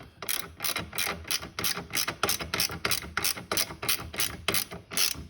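A ratchet wrench tightening bolts on a Honda Navi rear rack, rapid steady clicking in short bursts, close and fairly loud, with no talking.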